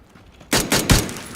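Three sharp gunshot bursts from a video game crack out in quick succession after a quiet lead-in, loud and close, like rapid weapon fire.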